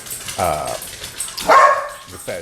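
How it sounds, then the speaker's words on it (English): Dogs barking in a household, a couple of loud, close barks in separate bursts mixed with a person talking. "I apologize for the dogs barking"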